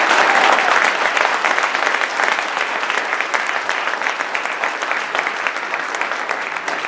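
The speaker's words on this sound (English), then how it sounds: "Can we just give them a quick round of applause?" A room of attendees at a public school funding forum gives sustained applause, dense steady clapping that runs loud and then slowly eases over several seconds.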